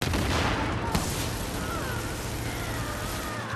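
Sustained gunfire from an ACR rifle in Tom Clancy's The Division, a dense continuous fusillade at close range with a sharper report near the one-second mark.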